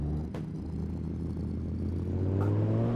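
A car engine in the Assetto Corsa racing game on the Shutoku highway hums and rises steadily in pitch as it accelerates, a continuous muffled drone with no talking.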